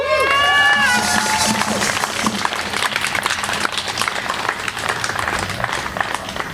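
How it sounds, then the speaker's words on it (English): A rally crowd at a Standing Rock solidarity event in Scranton breaks into sustained applause and cheering, dense clapping filling the space after a speaker's voice fades out. "So give yourselves a round of applause."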